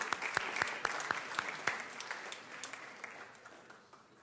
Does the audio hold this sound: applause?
yes